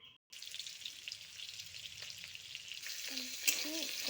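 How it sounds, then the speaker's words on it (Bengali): Leftover rice frying with chicken in a hot pan, a continuous close sizzle with occasional stirring scrapes and a brief clink near the end, after a short silent start. "কালকে রাতের ভাত রয়েছে, এটা একটু চিকেন দিয়ে ভেজে নিই"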